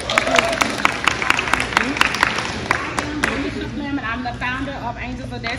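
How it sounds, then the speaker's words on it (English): Audience applause at a talk event bursts out as loud, dense clapping that gradually thins out, with crowd chatter and a speaking voice mixed in. "Clap it up."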